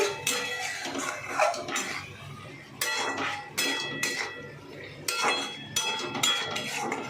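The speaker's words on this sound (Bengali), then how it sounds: "মশলাটা কষছে" A spatula clinks and scrapes against a pan as butter masala for paneer butter masala cooks, with a soft sizzle underneath and a steady rhythm of stirring strokes.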